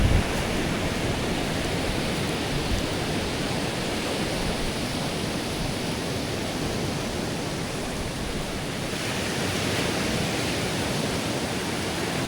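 Big sea waves roll in during the northeast monsoon on the west coast of Puerto Princesa, a continuous, loud, dense roar of surf with no distinct breaks, heard close to the shore.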